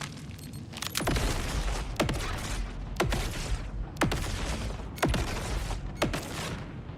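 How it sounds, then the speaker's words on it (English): A grenade in the video game Borderlands 4 sets off six explosions in a steady series about one second apart, each a sharp, loud burst with a booming tail, heard alone without talk. "It does 6 explosions."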